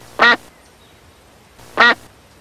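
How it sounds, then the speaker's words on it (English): Two loud cartoon duck quacks about a second and a half apart, each a short nasal burst, close and clear against a near-silent background. "There are three ducks over there."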